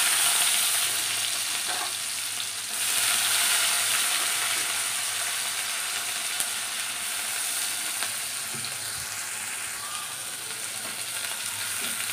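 Onion frying in a pan, a steady bright sizzle with crackling that runs unbroken throughout, close and fairly loud, with no talking.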